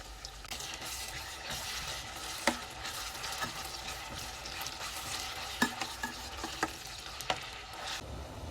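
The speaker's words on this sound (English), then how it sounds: "Add in your sliced onions and saute until they just start to change color." Sliced onions sauté in hot oil with fennel seeds and whole garam masala, giving a steady close sizzle broken by several sharp spoon-against-pan scrapes and taps while the mixture is stirred.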